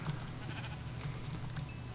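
Sheep in the Minecraft video game bleat quietly in a few soft, wavering calls over a low background hum.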